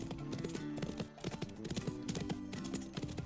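A horse gallops at a riding stable, with quick, rhythmic hoofbeats that thump close and clear in repeating groups of three.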